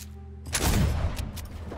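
Shotgun blasts in the game Fortnite: a sudden loud burst of gunfire followed by a rumbling decay and a couple of fainter sharp cracks.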